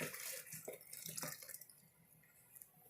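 A full pot of sweet tea poured into a container, a faint, close splashing and trickling of liquid that thins into light drips.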